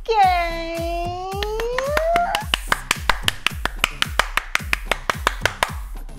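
A voice holds a rising wail, then a run of crisp, evenly spaced hand claps follows, close and loud, about two per second.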